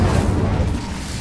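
An Incendio fire spell cast in Hogwarts Legacy on PS5 lets out a loud, sustained booming roar of flame that fills the moment and slowly eases off.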